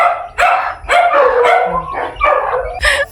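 A dog barks repeatedly in short, loud, close yips and bow-wows with brief gaps, in an outdoor setting with chickens around.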